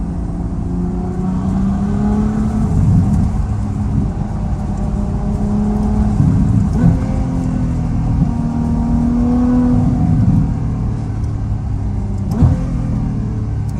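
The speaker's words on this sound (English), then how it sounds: "Ferrari doesn't like burbles, but this car definitely burbles." Ferrari F12 Berlinetta V12 fitted with a Valvetronic exhaust, loud and close, rising in several revs that fall away into crackling burbles and a deep bass thump from the muffler, with no talking.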